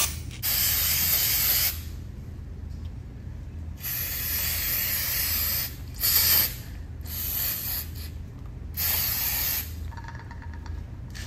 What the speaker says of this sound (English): now we're going to clean the cap with some brake cleaner